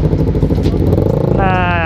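A Suzuki Satria FU 150 motorcycle running steadily up close with a rough, buzzing engine note, a voice talking over it and a rising whine near the end as it revs.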